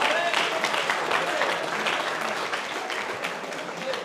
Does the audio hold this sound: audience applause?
yes